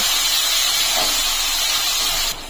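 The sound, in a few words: onion frying in a pan with whole spices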